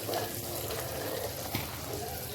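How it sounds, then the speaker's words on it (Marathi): Mandeli fish frying in a pan, a steady, close hiss and crackle of oil sizzling throughout with no break, alone without talk. "आपली मांदेली फ्राय होत आहे"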